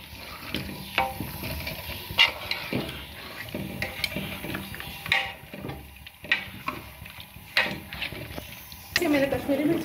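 Spoonfuls of fresh yogurt being stirred into a mutton korma masala in a pan, giving soft scraping and wet squelching strokes with a light sizzle, repeating at an uneven pace beneath someone talking.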